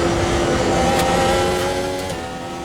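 A Formula 1 car engine in Automobilista 2 on the new Catalunya layout drones loud and steady at high revs in seventh gear, the pitch holding nearly constant and then easing slightly toward the end, with no voices.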